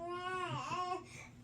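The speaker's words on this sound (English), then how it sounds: "if you can hear her in the background." A small child whimpers and babbles faintly in the background, a brief quiet wavering cry lasting about a second.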